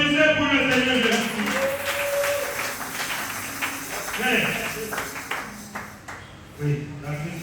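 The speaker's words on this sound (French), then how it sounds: "Applaudissez pour le Seigneur Jésus." A church congregation claps in praise during a French-language worship service; steady clapping runs through the whole stretch, mixed with voices and sung or chanted tones.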